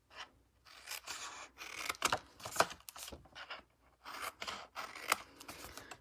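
Scissors snip through a paper 3D fold-over box, trimming off its angled portions in a series of short, close crunching cuts separated by brief pauses.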